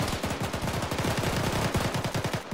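Rapid automatic gunfire in the ArmA military shooter game, a dense unbroken burst of loud shots lasting a few seconds with no talk.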